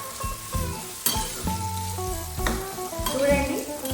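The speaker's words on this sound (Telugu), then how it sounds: "ఆయిల్లో కొద్దిగా లేదా కొద్దిగా ఫ్రై అవ్వాలి." Carrots frying in oil in a pan, a steady close sizzle with repeated spatula stirs and light metallic clinks against the pan, moderately loud, with no speech.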